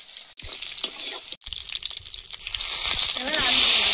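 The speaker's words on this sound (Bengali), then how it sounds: "ফোড়নে দেব একটা শুকনো লঙ্কা, কালো জিরে আর থেতো করা রসুন" Dried red chili, nigella seeds and crushed garlic sizzle as they temper in hot oil, a steady close crackle with stirring scrapes that grows louder and denser toward the end.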